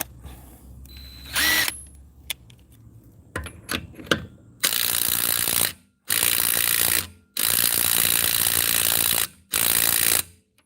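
A Bauer 20V Hypermax 3/8-inch compact impact wrench tightens lug nuts, its loud hammering rattle coming in four sustained bursts after some lighter clicks and clanks of the socket being fitted.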